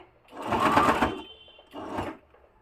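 A sewing machine stitches old kurti fabric in two short bursts of rapid, close mechanical chatter separated by a brief pause.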